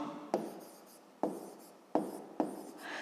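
Pen strokes on paper sound close and faint, with four sharp taps as the pen is set down, each followed by a scratchy trail of writing, while someone works out a school maths problem.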